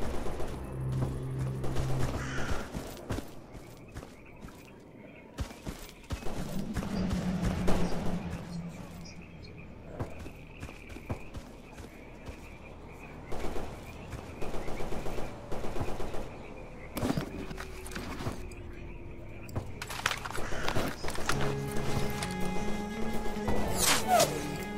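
Gunfire from the video game S.T.A.L.K.E.R. Anomaly in a cold swamp: repeated bursts of automatic shots and single cracks spread through the stretch, with a steady ambient hum and sporadic impact and movement sounds.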